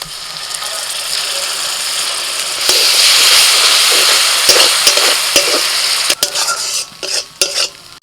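Ground tomato paste goes into a pan of frying onions, green chillies, ginger and garlic paste, and the sizzle swells loudly, then a spoon scrapes and stirs in rhythmic bursts up close.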